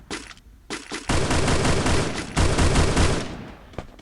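Rapid bursts of automatic gunfire from a video game, with short volleys at first, then a long sustained stream of shots, a brief pause, and a final scattered burst, loud and up close with no talk over it.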